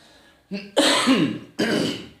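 Two loud, harsh coughs in quick succession, preceded by a brief throat-clearing sound, close to the listener.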